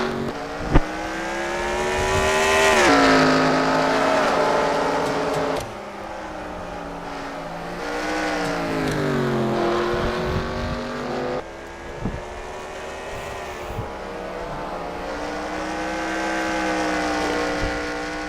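Race car engines roar around Bathurst in a racing video game, a loud continuous multi-car drone with rising and falling revs, gear shifts and abrupt drops in level through corners.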